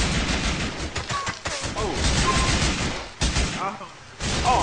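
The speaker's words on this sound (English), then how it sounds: "they shooting out that motherfucker at us" Gunfire in GTA 5 during an armed-robbery shootout in a neighborhood setting, with dense bursts of shots and booming impacts throughout, mixed with excited voices talking over the noise.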